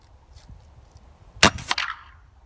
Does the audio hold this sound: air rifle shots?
yes